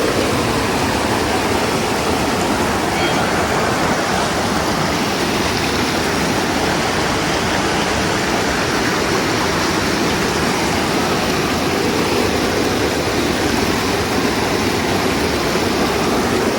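A fast-flowing river near a village temple gives a loud, constant rushing roar of water that stays even throughout, with no talk.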